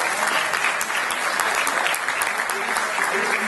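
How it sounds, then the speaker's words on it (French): A room full of people at a conference presentation applauds, dense steady clapping throughout with no pauses. "Merci d'applaudir."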